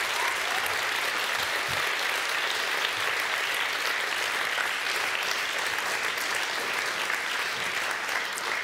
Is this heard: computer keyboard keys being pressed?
no